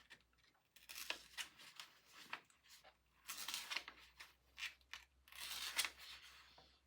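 A sharpened fixed-blade broadhead being tested for its cutting edge, with quiet crisp slicing and scraping strokes in irregular bursts, close and faint.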